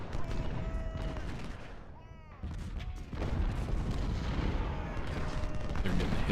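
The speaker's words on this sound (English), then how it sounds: "They're getting hit with a lot of artillery, too." Battlefield din in Ultimate General: Civil War, the Gettysburg battle, with a steady crackle of rifle volleys and deep booming artillery, while someone talks over the continuous fighting.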